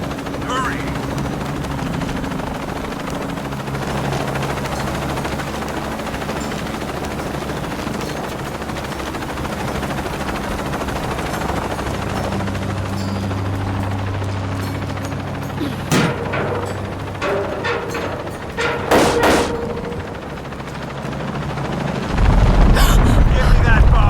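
A helicopter's rotor thrums steadily through a tense scene in the video game Shadow of the Tomb Raider, joined later by bursts of gunfire and impacts, with voices speaking over the action.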